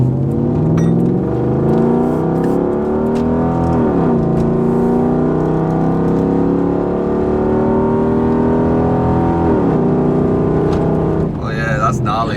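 Toyota Land Cruiser 100 V8 with a new exhaust, loud and near, a deep continuous burble with two rev surges that rise and fall back, people talking briefly at the end.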